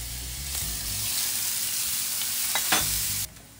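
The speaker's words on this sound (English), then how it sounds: "I'm going to add 1/4 teaspoon of fenugreek" Fenugreek seeds frying in hot coconut oil while tempering for fish molee: a continuous close hiss of sizzling with a couple of brief stirring scrapes, cutting off abruptly near the end.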